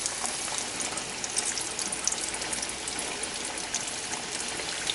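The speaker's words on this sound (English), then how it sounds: "Pick it up, I shake it and get the breading off it, and then set it down in that hot grease." Breaded catfish frying in hot grease, a steady, dense sizzle and crackle that holds evenly throughout, close and moderately loud with no talking.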